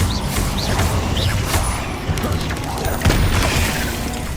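Incendio fire spell cast in Hogwarts Legacy, a burst of game combat effects with booms and crackling impacts among other spell sounds, loud and continuous, with voices calling out over it.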